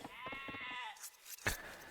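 Sheep in a strategy game bleat in a short, wavering cry, with a brief second bleat after a pause, fairly quiet and close.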